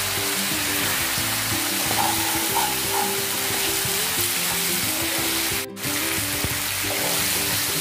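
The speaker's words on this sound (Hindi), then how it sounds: "अच्छा से भून लेंगे ना" Chana and poi sabzi sizzles in a hot pan as it is fried, giving a steady, close hiss with light stirring scrapes and a brief dip near the end.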